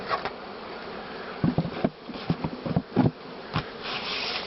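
A continuous buzz of honeybees close by at a single-frame nucleus hive, with light tapping and scraping noises scattered through the middle.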